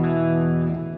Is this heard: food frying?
no